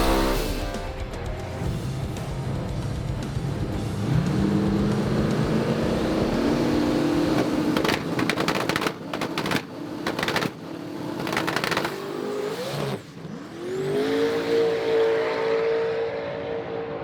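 A race car engine at the Street Car Super Nationals in Las Vegas drones loudly and steadily, with pitch sweeping up through acceleration runs, brief cutouts and a final rising pass.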